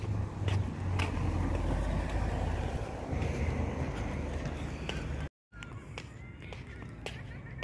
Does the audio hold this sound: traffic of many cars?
yes